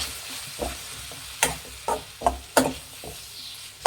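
Coriander, chilli and turmeric powders being stirred in a hot pan, with quiet sizzling broken by several sharp scraping and tapping strokes of a spoon against the pan, evenly spaced and close by.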